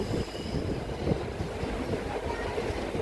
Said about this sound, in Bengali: এটা সেকেন্ড টানেল যার মধ্যে দিয়ে আমাদের ট্রেন ঢুকছে